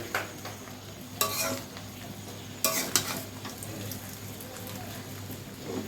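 Pulao rice fries on low heat under a soft, continuous sizzle, with a few louder bursts of stirring and scraping in the pan.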